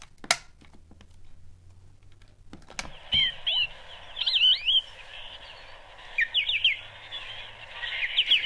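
Recorded birdsong plays from a Dial-A-Story record player story card, bright chirps and trills arriving in short bursts over a faint hum, preceded by a few mechanical clicks.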